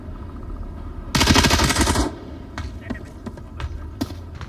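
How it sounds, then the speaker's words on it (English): Video game gunfire in a garage area, with a loud sustained burst of automatic fire lasting about a second, followed by scattered sharp single shots and clicks. "Carson taking shots at Beluga"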